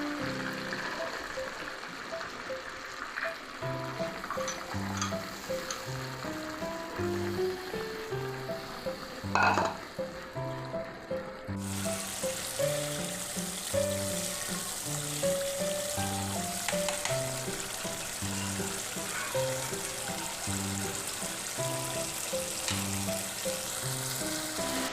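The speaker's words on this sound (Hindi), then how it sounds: "मसाला हमारा अच्छी तरह से भुन चुका है" Masala roasting in a pan for daal channa, a steady sizzle with rhythmic stirring scrapes and a brief louder burst midway, faint voices talking in the background.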